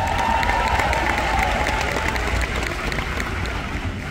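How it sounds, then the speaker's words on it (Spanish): A crowd at a Mary Kay seminar applauds loudly and continuously, a dense wash of clapping with some cheering that fades slightly toward the end. "pido un gran aplauso"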